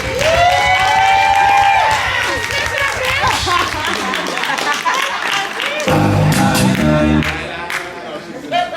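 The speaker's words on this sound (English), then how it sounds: "please give her a round of applause" An audience at a movie screening applauds an actress with loud, sustained clapping and cheering. A voice speaks over the applause, which fades and then swells again near the end.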